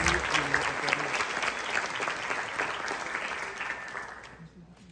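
Dense applause from a concert audience after a performance, clapping loudly at first and then gradually fading out.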